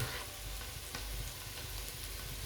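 Garlic frying golden brown in a pan, a steady dense sizzle with small crackles and pops, close and continuous with no talking.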